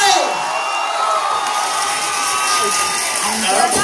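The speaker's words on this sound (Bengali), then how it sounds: "জোরে হাততালি হবে সবাই মিলে" A large crowd cheers and claps with a continuous loud roar of voices, shouts and applause running throughout, with no individual speech standing out.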